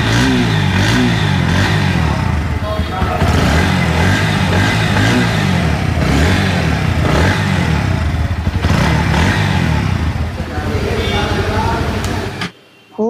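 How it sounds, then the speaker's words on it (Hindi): A 2024 Bajaj Pulsar NS160 Twin ABS motorcycle engine runs and revs with a loud, throaty idle and repeated throttle blips, close by, cutting off abruptly at the end. "बाइक स्टार्ट करके मैं आप लोग को इंजन साउंड सुना देता हूँ।"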